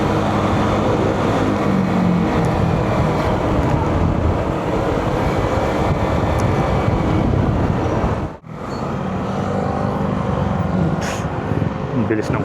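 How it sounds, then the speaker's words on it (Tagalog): A car passes fast along a busy road in Angeles City: a loud, continuous roar of road and engine noise that cuts off sharply near the end and then resumes, with a voice speaking over it. "Ang bilis ng kotse."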